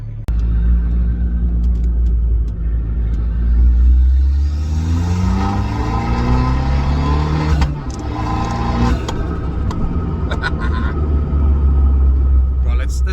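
An Abarth 595 with its rear seats removed hums and rumbles as it drives, rising in pitch as it accelerates through the gears, close and fairly loud.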